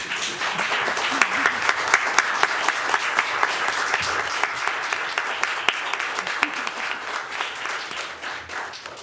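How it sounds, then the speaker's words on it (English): A room of people at a school board candidate forum gives a sustained round of applause, dense and even, with individual claps standing out throughout. "can we have a round of applause for the candidates?"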